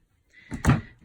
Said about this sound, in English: and you shut that door